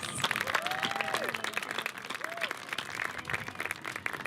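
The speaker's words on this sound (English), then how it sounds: "Let's give one more round of applause for all our student speakers." A graduation crowd gives a round of applause for the student speakers, dense clapping filling the hall throughout, with a few cheers and voices rising over it.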